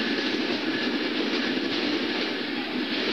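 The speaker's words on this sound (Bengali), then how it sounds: "ট্রেন বেশিক্ষণ দাঁড়ায়নি স্টেশনে" The Benapole Express passes through Chuadanga railway station in Bangladesh, a loud, close, continuous rumble of carriages and wheels rolling along the track that never lets up, with no voices.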